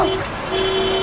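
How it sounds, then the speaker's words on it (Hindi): A car horn sounds a sustained, steady honk, broken briefly then resumed, loud and close over traffic noise, in a TV crime drama scene. "अरे क्यों हॉर्न मार रहा है?"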